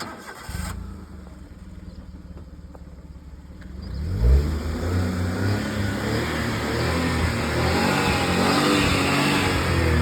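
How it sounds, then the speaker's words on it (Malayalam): Engine of a 2017 Maruti Alto 800 CNG taxi car, heard close: a quiet idle lull, then the starter cranks and the engine catches, followed by rising revs and a steady running drone. "ഇതിൻ്റെ ഇഞ്ചിൻ്റെ സൗണ്ട് അതെല്ലാം എങ്ങനെയുണ്ട് നോക്കിക്കോ. ഒന്ന് സ്റ്റാർട്ടാക്കി ഞാൻ കാണിക്കുന്നുണ്ട്"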